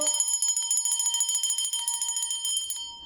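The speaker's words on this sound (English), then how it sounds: "I'm going to anchor that alignment energy again through the sound of the bell." Small bell rung rapidly in a spiritual setting, a fast run of bright metallic strikes with ringing overtones, close and clear, fading out at the end.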